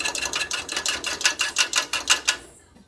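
A fork whisks egg whites in a bowl for breakfast muffins with quick, regular tapping strokes, about a dozen crisp clicks in steady rhythm, close and clear, tapering off at the end.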